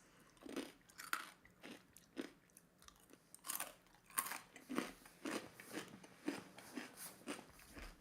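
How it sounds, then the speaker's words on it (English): Close, crisp crunching as someone bites and chews homemade fries, a steady series of sharp bites and munches roughly every half second, with no talking. "I'm sorry if I'm chewing too loud"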